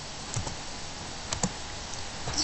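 Keys clatter on a computer keyboard as a command is typed into a Debian server terminal during NFS setup, a few sparse clicks and short bursts of keystrokes over faint room hiss.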